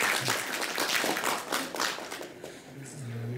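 Audience at a forum on Jeju development applauds to welcome a speaker, a dense wash of many hands clapping at once, loud and continuous, fading slightly near the end.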